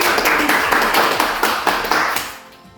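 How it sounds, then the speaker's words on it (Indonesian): Students in a school classroom clap their hands together in a dense, fairly loud burst of claps that lasts a couple of seconds and then fades out near the end. "Ya, tepuk tangan dulu untuk ini."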